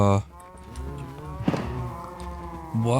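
Cows mooing in a Minecraft survival game while they are lured with wheat for breeding, giving several short, close low moos in quick succession with a brief click between them.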